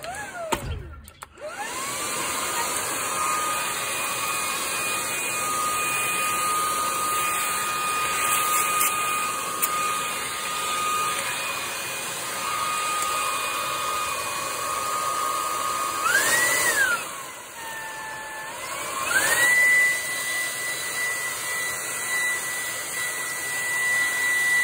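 A cordless vacuum cleaner in turbo mode whines steadily and loudly at close range, with its pitch dipping and rising briefly twice as the load changes.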